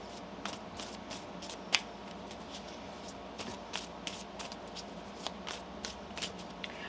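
Tarot cards riffle and slap softly in repeated shuffles, close by and quiet, with small crisp clicks over a low steady background.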